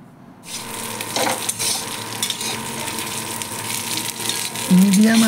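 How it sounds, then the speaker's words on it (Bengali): Paneer frying in ghee, a soft continuous sizzle with occasional stirring clinks, close up, and a brief tonal hum rising near the end. "এইদিকে আমি পনিরগুলো ভেজে নিলাম,"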